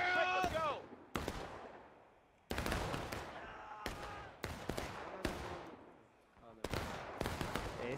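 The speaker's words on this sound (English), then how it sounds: "Confederate artillery." Artillery fire from a Confederate battery in a large-scale multiplayer Civil War battle game, a series of loud booming shots with crackling tails, mixed with other gunfire, with people talking over it.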